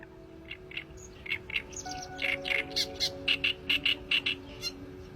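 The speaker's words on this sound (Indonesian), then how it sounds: "kicauannya terdengar seperti suara berulang yang agak berkarat, mirip besi tua" A kerak basi bird sings a repeated series of short, harsh, scratchy, rusty-sounding notes like old iron in a steady rhythm, fairly close, over a quiet background hum.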